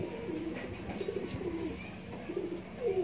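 Soft, low pigeon coos repeat throughout against a faint background hum, several birds calling close by.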